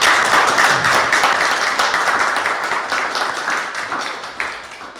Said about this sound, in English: Marius, a big round of applause for him.